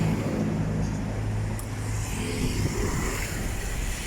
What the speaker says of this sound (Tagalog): may mga sasakyan na paisa-isa na dumadaan